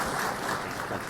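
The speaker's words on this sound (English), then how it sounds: "Can we give a big round of applause?" A community meeting audience in Arundel Hills applauding councillors: a brief, faint wash of clapping from a room of people, heard at a distance.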